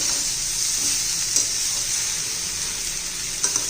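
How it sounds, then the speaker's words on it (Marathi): Ground masala for stuffed ridge gourd stirred in hot oil in a pan gives a steady, close sizzle throughout, with a couple of brief utensil clicks and no voices. "आता उरलेला मसाला घालून घेऊया तो पण एकदा हलवून घेऊया व्यवस्थित ज्या म्हणजे तेलामध्ये चांगला परतून घे"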